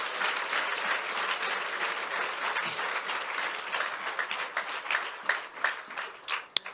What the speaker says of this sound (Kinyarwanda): duhe Imana amashyi menshi muri iki giterane